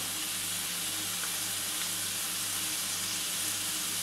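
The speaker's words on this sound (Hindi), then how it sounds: "थोड़ा सा इसमें बटर डालेंगे।" Butter sizzles in a hot pan with salmon, a steady, close frying hiss that holds evenly throughout with no talking.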